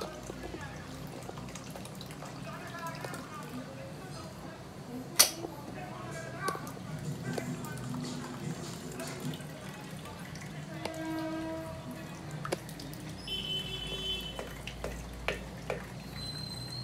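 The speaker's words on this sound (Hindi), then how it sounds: "अब इसमें हम लोग अपना पनीर छान लेंगे।" Fresh paneer is strained through a wet cloth set in a strainer over a pot, with water trickling and dripping close by, plus a few clinks of utensils and some quiet speech.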